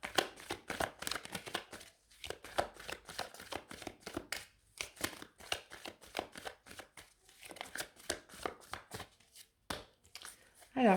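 Oracle cards are shuffled in rapid, crisp riffling bursts with short pauses, close and fairly quiet.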